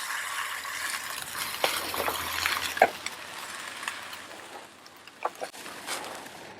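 Cheesy eggs stirred and frying on a Blackstone flat-top griddle for breakfast burritos, with a steady sizzle and scattered spatula clicks and scrapes against the steel surface.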